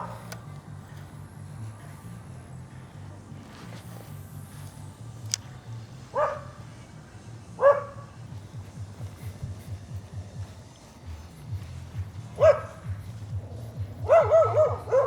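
A dog barks in short, loud bursts heard outdoors near a bait shop, with several separate yaps and whimpering cries spaced over a low, steady background hum, the final bursts coming in a quick cluster.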